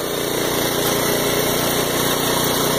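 A wood-gasifier-fuelled engine runs derated, giving a loud, close, steady mechanical drone with a fast regular pulse and no voices.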